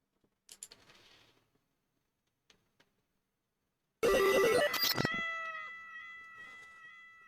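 A cat gives a short meow, then after a pause a loud, drawn-out caterwauling cry rings out close up, its harmonics trailing away over a couple of seconds.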